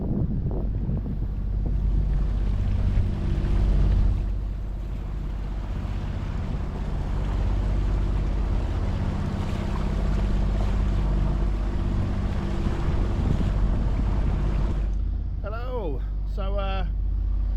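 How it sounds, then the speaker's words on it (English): A sailboat motor sailing with the genoa up in gusty wind, steady engine drone and wind buffeting the microphone, with water rushing along the hull and a voice speaking near the end. "So we're kind of motor sailing at the moment."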